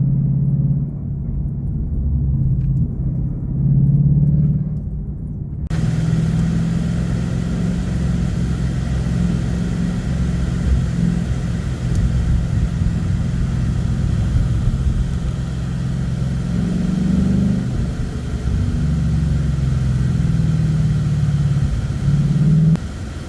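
A Ford Coyote 5.0 Mustang running with Flowmaster exhaust, a steady deep idle rumble that continues throughout, with slight rises in pitch now and then and no talking.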